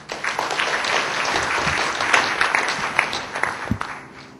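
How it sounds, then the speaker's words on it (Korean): Warm applause from the audience opening a law school mock fair-trade commission hearing, a crowd clapping densely and steadily throughout, with a few louder individual claps standing out close by. "여러분들의 뜨거운 박수 부탁드립니다."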